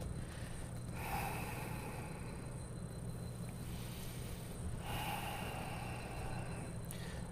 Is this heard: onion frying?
no